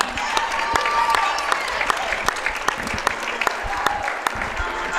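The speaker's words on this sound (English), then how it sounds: "Please give these seniors and their parents a big round of applause." Gym crowd at a girls' varsity basketball game applauds seniors and their parents, a steady, fairly loud wash of clapping with a few sharp, distinct claps standing out throughout.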